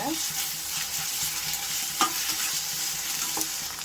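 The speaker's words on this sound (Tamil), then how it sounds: "இஞ்சி பூண்டு சேர்த்து 2 நிமிஷம் நல்லா வதக்குங்க" Ginger and garlic are sautéed in a pan for chicken kulambu, a constant close sizzle with a few crisp spatula scrapes and taps as it is stirred, and nobody speaks.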